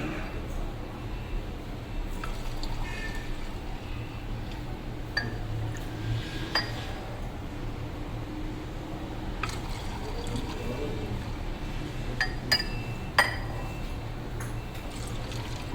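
Homemade jaggery syrup is poured into glasses already holding ice, with soft liquid trickling and scattered light glass clinks and ice taps throughout, fairly quiet and close.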